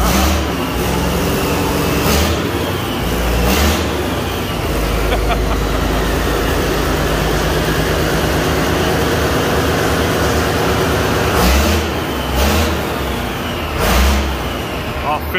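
Caterpillar D7G dozer engine fitted with a straight pipe, a loud rumbling drone that swells in several revving bursts, with someone speaking over it.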